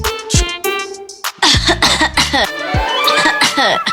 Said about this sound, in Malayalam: എന്താണ് ഇതിന്റെ തൊണ്ടയ്ക്കൊരു പെട്ടെന്നൊരു ചുമ